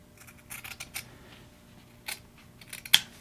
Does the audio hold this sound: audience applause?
no